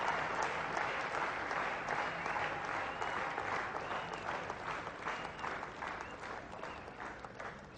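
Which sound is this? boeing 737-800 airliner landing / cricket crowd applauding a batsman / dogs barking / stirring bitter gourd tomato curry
cricket crowd applauding a batsman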